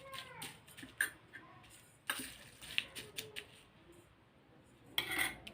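A spoon scrapes and clinks against a pan as garlic fry is stirred, giving sparse, fairly quiet metallic taps and scrapes spaced a second or so apart, with no talking.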